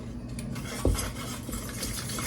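A spoon stirs milk into a mixture in a pot over medium heat, with a single scrape or knock against the metal and a steady low background rumble, no voices.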